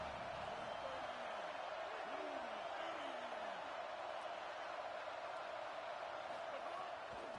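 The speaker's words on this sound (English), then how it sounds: "this crowd is at fever pitch" A stadium crowd at a college football video game, heard as a steady, dense roar that holds at constant level throughout, with faint voice-like whistles or calls rising briefly above it.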